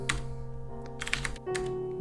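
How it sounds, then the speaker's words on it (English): Close, crisp keystrokes on a computer keyboard as a terminal command is typed, a quick irregular run of taps over faint background hum with no speech. "by typing sudo apt install NeoVim"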